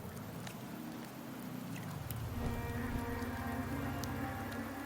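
Steady rain falls in a dense, continuous patter, with heavier spattering drops joining in after the first two seconds; no voices are heard.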